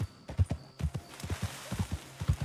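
Horse hooves clip-clop at a steady walking rhythm in Red Dead Redemption 2 as a rider sets out on an elite Arabian horse, the dull thuds close and even under faint outdoor ambience.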